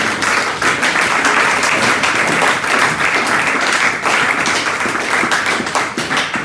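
A church congregation applauding in worship, dense sustained clapping from many hands filling the room steadily and loudly, without pause.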